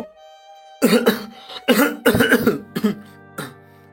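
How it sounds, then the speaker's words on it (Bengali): A series of harsh, violent coughs with throat clearing breaks out in close bursts after someone drinks dirty water. A faint steady tone sits underneath. "পরক্ষণেই প্রবল কাশি উঠল।"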